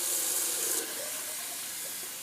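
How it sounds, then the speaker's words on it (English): A kitchen tap runs with a steady hissing splash as a Timeless bowl is rinsed under it, the flow easing slightly partway through, close by with no voices. "I'll just rinse out my Timeless bowl real quick"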